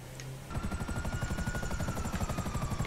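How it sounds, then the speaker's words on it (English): Helicopter from a GTA police (LSPD) chase, its rotor chopping in a fast steady pulse that starts abruptly and stays loud and close throughout, with no talk over it. "With my single headlight helicopter."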